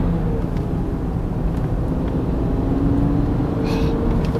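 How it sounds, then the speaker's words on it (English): A BMW E39, revived after seven years of sitting, drives along with a steady engine drone and road rumble, continuous and fairly loud throughout, with no voices. "the engine sound is pure heaven"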